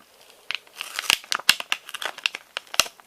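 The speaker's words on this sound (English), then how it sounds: "So we're gonna first get this scissors out." A pair of stainless steel scissors is picked out and handled near a VHS tape being repaired, giving close, irregular crinkles and sharp clicks with no talking.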